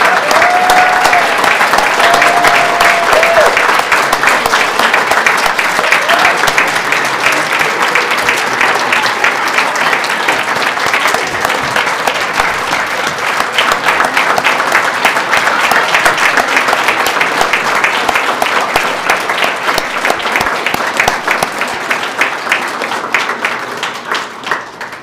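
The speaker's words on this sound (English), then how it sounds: "let's give one more round of applause for these amazing winners" Sustained, dense audience applause fills a hall at a school district awards ceremony honoring award winners, steady and loud for the whole stretch before tapering slightly at the end.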